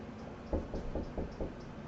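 Series of knocks on a door, about five firm thumps in a steady rhythm, moderately close and alone with no talk.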